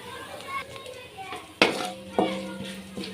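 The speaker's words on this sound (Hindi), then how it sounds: "हिलाना है इसको।" Pulao spices being stirred in a cooking pot, with a few sharp metallic scrapes and knocks of the spoon against the pot over a soft background sizzle.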